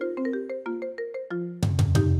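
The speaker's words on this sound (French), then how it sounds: "finalement, on a gardé l'ancienne sonnerie" A phone ringtone plays a bright, stepped melody of repeated tones, then gives way to a louder, denser burst of ringing chimes near the end, with no talking.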